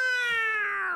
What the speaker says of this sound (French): Le petit chat fait miaou.